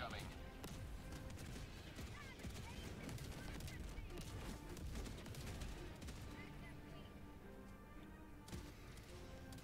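Dense, continuous rapid autocannon fire in the video game Helldivers 2, with heavy booms and crashes, a steady loud barrage throughout with no pauses.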